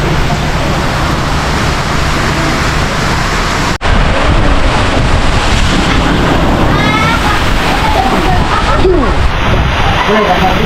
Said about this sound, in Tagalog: Grabe na naman yung hangin.